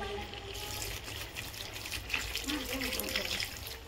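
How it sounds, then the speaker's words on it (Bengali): Water poured gently into a pan of Bengali chicken kosha after frying, a steady liquid trickle and gush running for several seconds with soft background noise and no talk. "আমি এর মধ্যে দিয়ে দেবো হালকা করে জল।"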